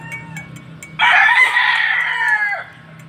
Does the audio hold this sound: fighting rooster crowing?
yes